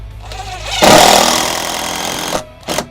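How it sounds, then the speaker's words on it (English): A power driver whirs loudly as it drives a screw into a vinyl replacement window frame, one sustained burst easing off over about a second and a half, followed by two short bursts. "Just want to give it a little push while you're putting the screw in."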